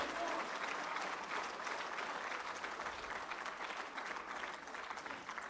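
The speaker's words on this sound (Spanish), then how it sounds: "Aplaude fuerte al Señor." Loud, steady applause from a church congregation at a conference in Peru, sustained evenly throughout with dense clapping and crowd noise.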